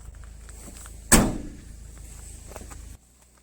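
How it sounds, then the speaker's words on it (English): A single solid car door slam on a UAZ Buchanka van, close and sharp, rising out of a quiet room hum and fading quickly. "When you close the doors, you need to get the right Russian touch."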